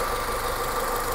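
A 2005 Honda Civic VTiS with a manual gearbox idles steadily, a constant mid-pitched engine hum with slight vibration, close and uninterrupted, with no talking over it.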